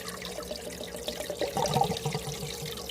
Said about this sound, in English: Yesterday when I finished putting this in, it's still trickling.